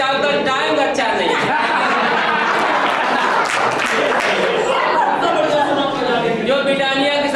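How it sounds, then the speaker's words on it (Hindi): An audience claps at length, warm and continuous, while someone speaks over it and some light chuckling rises from the crowd. "आप तो तालियां बहुत अच्छा बजा लेते"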